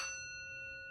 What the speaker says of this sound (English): So there is a small gong,